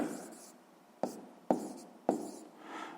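Pen or pencil strokes writing a sixth-grade maths answer by hand on paper, a few short scratchy bursts spaced apart, close and fairly quiet with no talking.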